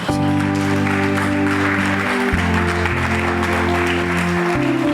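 A church congregation at a crusade in Paris breaks into loud, continuous applause to acclaim the Lord, with dense clapping mixed with sustained music tones throughout.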